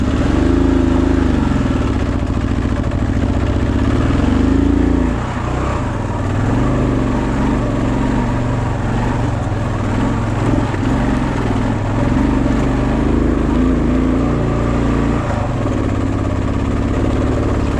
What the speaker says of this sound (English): Listen to the motor of the bike here, really bogging down, trying to get all the way to myself and the bike up the hill here.